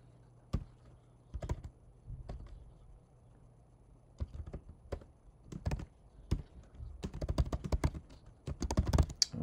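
Keys clatter on a computer keyboard as a web address is typed, irregular bursts of close, crisp taps with short pauses, growing faster and denser toward the end.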